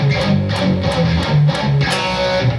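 An electric guitar plays a transition, with distorted power chords moving through a short rhythmic run, some palm-muted, loud and close, with no talk.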